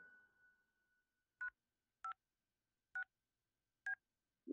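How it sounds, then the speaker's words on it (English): Four evenly spaced touch-tone beeps from a phone keypad ring out in the horror game Pitch Black, each short and clean against silence, after a fading steady tone at the start. "trying to make a phone call"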